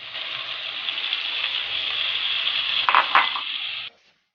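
Chopped tomatoes hit a hot pan for a bean and onion dish, setting off a steady, bright sizzle close by. A few clatters near the end, then it cuts to silence.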